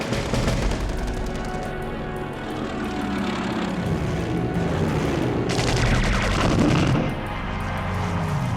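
Dense gunfire and roaring aircraft engines from a World War II aerial dogfight between RAF fighters and Luftwaffe Me-109 escorts over Britain in 1940, a loud continuous barrage of overlapping bursts with engine drone throughout.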